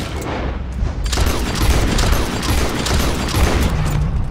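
Rapid gunshots ring out in Red Dead Redemption 2 as an animal is shot six times, a loud, dense barrage of overlapping blasts and booms that continues almost without pause.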